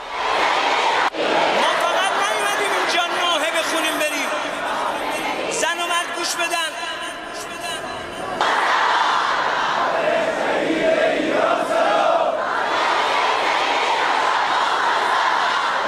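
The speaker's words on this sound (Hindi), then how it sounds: "लोगों की ये भारी भीड़ और शोर ये सब कुछ बता रहा है" A huge crowd at Khamenei's funeral roars and chants continuously, a dense, loud wall of massed voices with surging shouts and cheering throughout.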